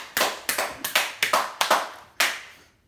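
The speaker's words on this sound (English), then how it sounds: "Give everyone round of applause." A small group gives a round of applause: about eight sharp, fairly close claps in an irregular rhythm, trailing off into silence, with no talking.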